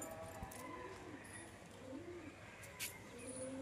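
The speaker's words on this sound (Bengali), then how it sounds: "অসাধারণ কবুতর।" Pigeons, a male and female pair kept as pets, coo softly in low repeated phrases against steady background noise, a few calls rising and falling across the moment.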